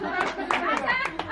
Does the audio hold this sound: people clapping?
yes